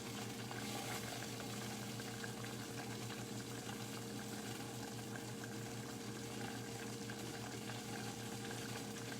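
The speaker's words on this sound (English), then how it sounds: "I'm just gonna let this come simmer up again." Pomegranate BBQ sauce simmers in a pot on the stove, giving a steady, even bubbling and hissing that stays at one level throughout, with no talk.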